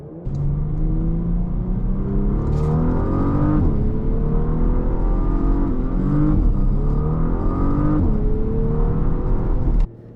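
A Porsche Panamera 4S accelerating hard as the gas pedal is pressed, a loud continuous engine roar rising in pitch through several gear changes before cutting off abruptly at the end.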